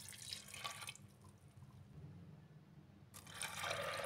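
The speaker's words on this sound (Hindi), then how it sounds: "पानी डालेंगे।" Water pours and trickles into a pressure cooker with dal in two bursts, a splashy flow at the start and again near the end, with quieter dripping between.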